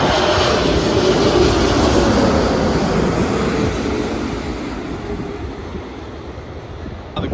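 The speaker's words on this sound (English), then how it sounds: "There's a Lufthansa 747 coming up." Lufthansa Boeing 747-8 jet passing at LAX, a loud broadband engine roar that fills the clip and slowly fades as the airliner moves away.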